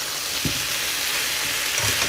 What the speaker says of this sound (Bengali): ব্রোকলি দিয়ে ভালো করে এই মশলার সঙ্গে একটুখানি কষিয়ে নেব